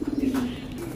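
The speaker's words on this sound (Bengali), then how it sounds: "এই একটা কবুতর আমার হাতে" A purple-necked pigeon coos close by, a short low throaty call over quiet background.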